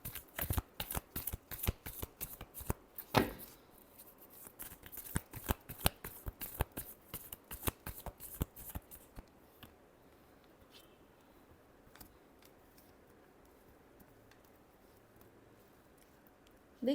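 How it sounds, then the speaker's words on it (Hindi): Tarot cards shuffled by hand in a rapid, close run of crisp riffling flutters for about nine seconds, then a near-silent pause before a single soft tap at the end. "Last shuffle."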